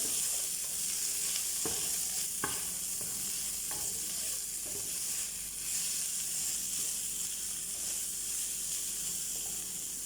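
Onion fries in a pan with a steady, moderately loud sizzle that runs throughout, broken by a few sharp clicks of a utensil against the pan.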